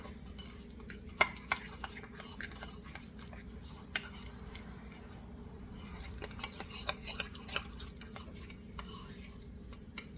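Spinach stuffing for poussin being mixed in a bowl, soft scattered clinks and taps of a utensil against the dish over a low steady background hum, fairly quiet, without talk.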